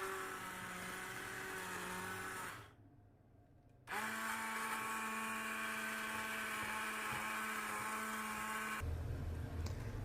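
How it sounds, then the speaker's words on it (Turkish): A blender pureeing lentil soup whirs steadily at high speed, pauses for about a second, then resumes its loud motor drone before the pitch shifts near the end. "Ardından blenderdan geçiriyorum."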